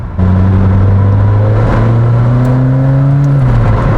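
A McLaren Senna hypercar engine accelerates with a loud, close, continuous drone that climbs steadily in pitch, then drops sharply at a quick gear shift near the end.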